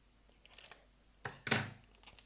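Scissors cutting a small piece of material during a squeaky wheel repair, heard as a few short crisp snips and rustles, closest and loudest near the end of the cut, with no talking.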